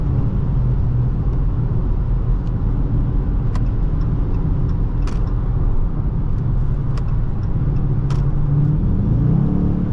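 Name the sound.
2021 Dodge Charger R/T engine, ZF8 transmission blipping gears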